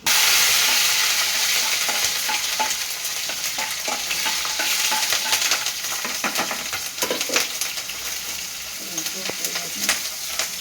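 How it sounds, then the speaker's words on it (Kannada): Garlic cloves and ginger frying in a pan with cinnamon and cloves for tomato kurma give off a loud, steady sizzle, with a utensil stirring and scraping through it now and then. "ಅದನ್ನು ಸ್ವಲ್ಪ ಹುರಿದ್ಮೇಲೆ ಒಂದು 7-8 ಎಸಳು ಬೆಳ್ಳುಳ್ಳಿ, ಶುಂಠಿ"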